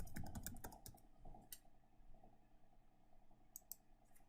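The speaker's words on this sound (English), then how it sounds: "I'm going to type in calorie," Quick keystrokes on a computer keyboard entering values into a spreadsheet, a dense flurry of clicks at the start, then sparser, fainter taps, heard alone at close range.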